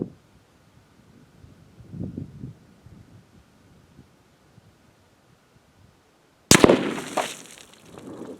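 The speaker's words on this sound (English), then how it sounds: "We'll be shooting at this 10-pound block of clay, distance 100 yards, using a 223 55 grain full metal jacket" A single sharp rifle shot cracks loudly, a .223 55 grain full metal jacket round fired at a clay block 100 yards away, with a brief rumbling tail after quiet outdoor background and a soft thump earlier.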